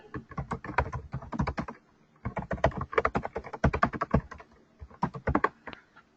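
Steady typing on a computer keyboard in an office training session, close bursts of rapid key clicks broken by short pauses, with no voices.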